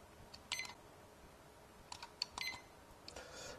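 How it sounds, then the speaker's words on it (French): A digital thermometer for home or office gives several short electronic alarm beeps in small clusters, faint and separated by quiet gaps, with light button clicks and no talking. "il y a des alarmes sonores et différents modes"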